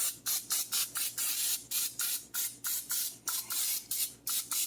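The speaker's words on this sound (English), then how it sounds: "going to give us a little bit of buttery spray action here" Butter-flavored cooking spray hisses onto a chicken casserole in about a dozen short, evenly spaced bursts, loud and close with no talking.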